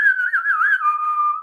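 A person whistles one sustained, wavering tone in imitation of a referee's whistle, clear and close, alone for just over a second.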